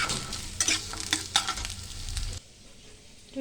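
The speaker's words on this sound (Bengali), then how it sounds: "এখানে আলুগুলো ভালো করে ভেজে নেবো লাল লাল করে" Potatoes frying in oil for a vegetarian paneer dish, sizzling with clattering stir strokes for a couple of seconds before the sound drops to a quieter, muffled hiss.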